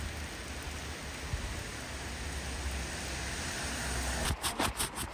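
Steady rain hisses evenly during a walk in Hamburg, a broad close wash of falling water with no voices, ending in a few brief louder pulses.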